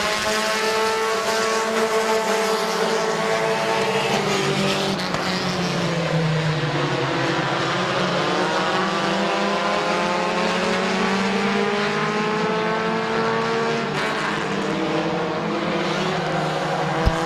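Several race cars battle for the lead on a speedway, engines howling in overlapping revving tones that rise and fall as they pass close by, loud and continuous with no talk over them.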